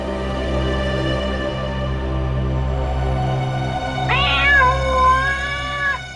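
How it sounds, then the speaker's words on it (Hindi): A single cat gives a drawn-out, wavering meow near the end, loud and close. A low droning hum runs underneath throughout. "ये बिल्ली की आवाज कहां से आ रही है?"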